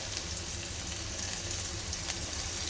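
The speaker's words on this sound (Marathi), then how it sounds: "कांदा ते हलवून घेऊया आपण चांगलं कांदा चांगला भाजून घेतल्यानंतर" Onion fries and gets stirred in a pan for Maharashtrian matki usal with cumin and asafoetida, a soft steady hiss of sizzling oil close by with a few light scrapes, fairly quiet and without voices.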